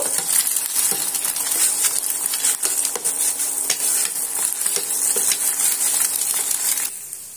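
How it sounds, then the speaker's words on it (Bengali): An egg fries in a pan, making a loud, continuous sizzle with small crackles and occasional taps of a utensil. It stays close and steady, then drops slightly at the end. "ডিমটা আমি এখানে ভেজে নিয়েছি।"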